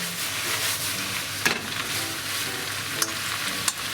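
Shredded cabbage stir-frying in oil for tonpei-yaki gives a steady, close sizzle, with a few sharp clacks of a utensil against the pan spaced a second or so apart.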